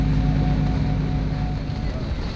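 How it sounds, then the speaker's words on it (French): Wind rising around a sailboat at sea in the Mediterranean off Spain, with a steady roar and rumble of gusts buffeting the microphone alongside a low engine-like drone, constant and close. "le vent a déjà commencé à se lever là"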